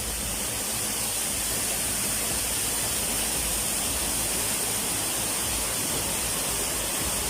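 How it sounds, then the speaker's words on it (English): Steady, dense rush of a waterfall in a forest, constant and fairly loud with no breaks, an even wash of falling water filling the whole stretch. "While filming a serene waterfall"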